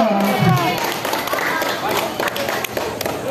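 Children at a barangay reading tour event in General Trias, Cavite clap together in a noisy, sustained burst of applause, mixed with crowd chatter and voices throughout.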